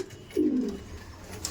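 Kaldom Laldom pigeons in a loft give a single soft, low coo at close range against faint background noise.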